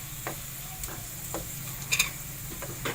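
Whole garam masala spices sizzle in hot oil in a pan, a soft continuous fry broken by regular scraping knocks of a spoon stirring, with one sharper crackling burst midway.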